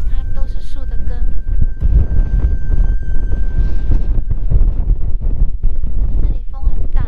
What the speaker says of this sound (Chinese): 这里风很大，因为旁边都没有遮蔽物，所以风非常非常的大